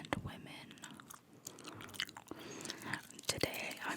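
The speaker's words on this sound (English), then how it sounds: "Today I'm chewing the Sours Extra Strawberry Flavored Gum." Someone chewing Sours Extra Strawberry flavored gum up close, with soft, moist smacking and crunching bites in an irregular rhythm, mixed with faint whisper-like breaths and light rustles.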